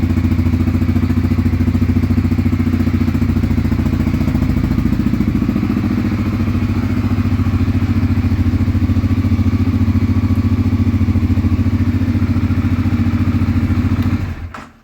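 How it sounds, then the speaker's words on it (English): A 2022 CFMoto 600 touring motorcycle engine runs steadily with a deep, throbbing low rumble and some mechanical clatter, close by, cutting off abruptly near the end. "The bike sounds good."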